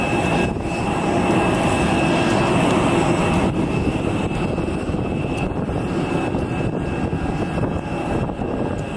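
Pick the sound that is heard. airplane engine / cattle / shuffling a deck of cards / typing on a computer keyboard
airplane engine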